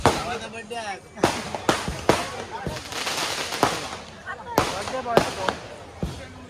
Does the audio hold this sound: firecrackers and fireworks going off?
yes